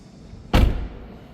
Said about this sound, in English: if we approach from the driver's side, open up the door